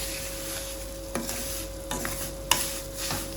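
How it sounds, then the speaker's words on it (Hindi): Semolina and pistachios with almonds being dry-roasted and stirred in a pan over low heat, giving a soft steady sizzle with a few spoon scrapes and light knocks, alone with no talk. "साथ सूजी भून जाएगी और साथ ही हमारा पिस्ता बादाम भी।"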